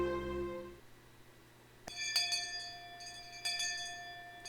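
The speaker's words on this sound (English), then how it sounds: "Just then, we heard a bell far away, marking the end of our lunch break." A distant bell rings out in the Higurashi visual novel, sounding two clear metallic strikes with long shimmering decay, the second a moment after the first, heard alone after a low tone fades.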